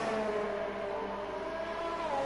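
A Formula 1 car in the F1 2019 racing game at the USA Grand Prix, heard onboard through the S section: a steady high-pitched engine whine with shifting tonal harmonics, moderately loud and continuous.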